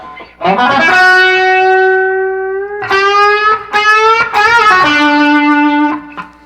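Electric guitar lick with a sustained string bend rising in pitch, then quick slides and repeated notes landing on D, distorted tone, played alone and up close.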